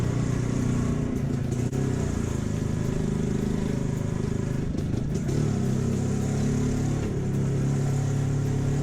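A 1970 Jawa 353 250cc two-stroke motorcycle engine runs steadily and close by, its buzzing, throbby drone continuous for the whole stretch with slight rises in pitch and no talking.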